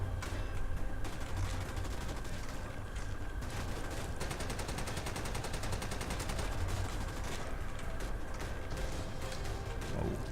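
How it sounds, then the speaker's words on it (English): Rapid hip-fire gunshots from a weapon in the World War 2 shooter Raid: World War 2, rattling in dense automatic bursts over constant loud game ambience. "If you're wondering why I'm hip firing so much"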